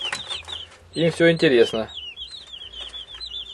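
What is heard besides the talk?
broiler chicks clucking in brooder cage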